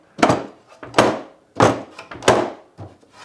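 The lid of a DeWalt Tough System 2.0 plastic tool case shutting, giving about four loud, hollow thunks a little under a second apart, close by and with no talking.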